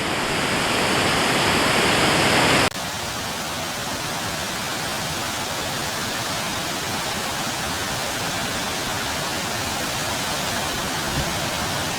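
A noisy high-pressure waterfall in Wawa, Ontario roars as a dense, constant wash of rushing water, loud and unbroken, with a brief brighter hiss at the start.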